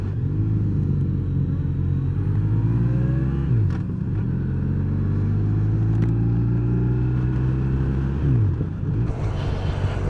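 A motorcycle pulls away and accelerates on a cold ride toward the Dandenong Ranges. The engine is loud and close, with a steady rising drone that dips briefly between gear changes.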